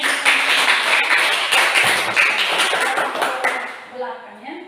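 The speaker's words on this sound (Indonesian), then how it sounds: "kita tepuk tangan" Students in a classroom break into a brief burst of clapping for a discussion group, a few seconds of close, dense hand claps that taper off at the end, with voices mixed in.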